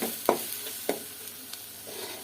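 Spices sizzle quietly over low heat in a steel pot, broken by a few sharp stirring scrapes; no voices.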